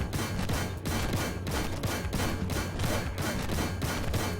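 Rapid tank cannon fire from a Begleit Panzer 57 in the Armored Warfare video game, a dense, steady burst of repeated shots held at loud, constant volume for several seconds.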